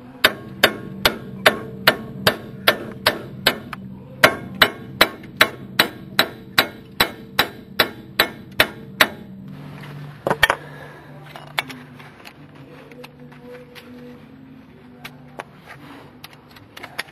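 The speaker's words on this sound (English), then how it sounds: "bolts off here, hammer them." Some twenty sharp, evenly spaced hammer blows ring out on metal bolts being knocked loose, loud and close. A few heavier clanks follow, then quieter handling noise and rattling of parts.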